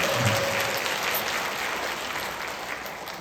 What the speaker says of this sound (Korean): 좋아하시면 박수 한번 주세요